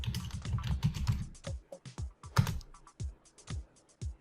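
Quick, irregular clicks of keys on a computer keyboard, close and fairly loud, coming in short bursts with brief pauses between strokes.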